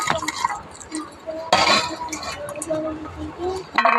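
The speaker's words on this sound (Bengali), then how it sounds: "এখন রসুনগুলো একটু ছেঁচে নেব" Garlic cloves being crushed for a taro-leaf greens dish in a home kitchen, with a few sharp knocks and clinks of utensils against a hard surface, one louder thud partway, amid background room noise and faint voice.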